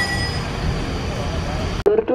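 The Argo Lawu passenger train passes Srowot station in Indonesia with a loud, steady roar. Near the end the roar cuts off and a brief tonal chime sounds.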